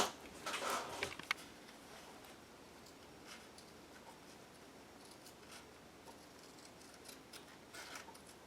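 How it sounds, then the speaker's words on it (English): Scissors snip through the raw edge of a wax-dipped vintage baby dress fabric, a short close cluster of crisp cuts early on, then only faint scattered rustles and ticks in a quiet room. "and cut off the bad edge."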